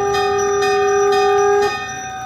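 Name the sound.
bell ringing during Bhagavat katha story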